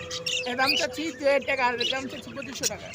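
Pet birds chirp and tweet at a busy bird market in Mugda, their calls faint and scattered under close conversation between people.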